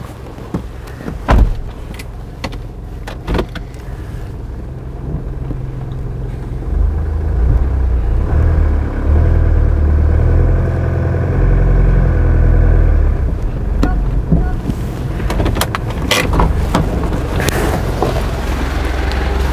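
A car towing a trailer drives onto a ramp, with a steady low engine rumble and road noise that swells in the middle, plus a few knocks and clunks, heard up close with no talking.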